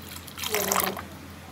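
Milk poured into a glass, a brief close liquid splash that swells and fades within about a second.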